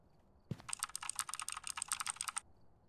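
Fast typing on a computer keyboard: a quick run of close, crisp keystrokes lasting about two seconds, heard alone against a quiet background.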